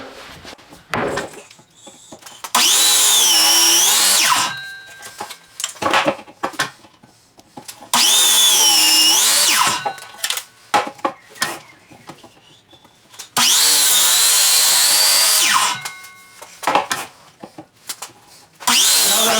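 A miter saw cuts wood for a wooden mallet in a small workshop: three loud, close bursts of motor whine, each lasting about two seconds and separated by quieter gaps with clunks and handling noise.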